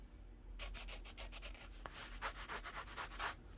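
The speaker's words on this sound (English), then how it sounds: "I don't know if you can hear when you scratch on it." Rapid rhythmic fingernail scratching on a papery printed clothing transfer, close and quiet, a steady series of short rasping rubs with no voices.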